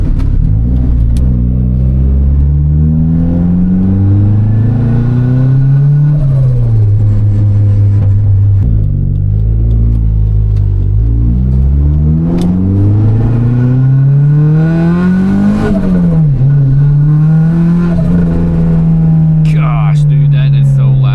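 The engine of a turbocharged Mazda Miata revs hard while driving, climbing and dropping through gears in loud repeated sweeps that stay close and dominant throughout, with a brief high whistle near the end.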